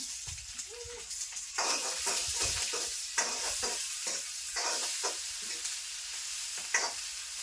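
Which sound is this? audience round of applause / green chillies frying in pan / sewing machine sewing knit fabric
green chillies frying in pan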